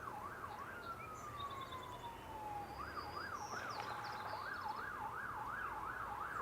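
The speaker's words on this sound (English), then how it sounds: "You can hear the sirens." A distant emergency siren wails beside a marsh, alternating between a rising-falling yelp and a long falling tone, heard faintly over outdoor background noise.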